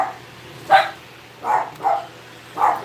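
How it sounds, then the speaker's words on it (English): A dog barking at a mailman, with four sharp, fairly close barks spaced apart and quiet room tone between them. "That's usually code bark for mailman."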